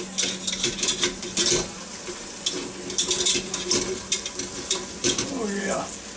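Tongs lifting a Smithfield pork tenderloin out of a Ninja Foodi cooker, with soft sizzling, metallic scrapes and clinks close by while someone talks.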